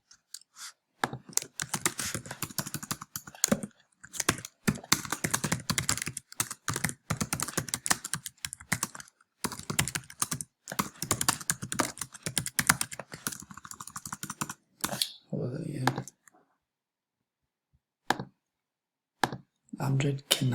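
Fast, dense clicking on a computer keyboard goes on as notes are typed, with brief gaps and a longer pause before a few final keystrokes.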